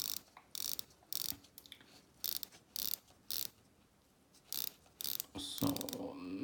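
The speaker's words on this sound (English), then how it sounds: "So nothing to complain about the bezel action." Seiko SKX007J dive watch bezel turned in quick bursts, a crisp series of close ratcheting clicks repeating in short runs with pauses between them.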